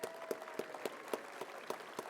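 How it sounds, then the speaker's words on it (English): Graduation ceremony audience applauding a graduating class: faint, somewhat distant clapping with crisp claps landing in a fairly even rhythm over a soft wash of crowd noise. "would you stand and give this graduating class a round of applause and a standing ovation for everything they've done and accomplished?"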